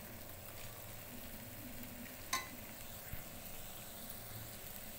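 Prawn masala being stirred gently in hot oil, with a quiet, steady sizzle and a soft scrape or clink of the spoon near the middle.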